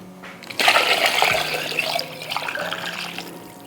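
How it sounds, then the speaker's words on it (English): Water pouring steadily into an 18-quart roaster pan, a continuous splashing, gurgling stream close by, running without talk for several seconds. "So we'll pour in quite a bit of water to fill this 18-quart pan."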